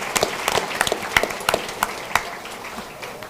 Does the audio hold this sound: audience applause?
yes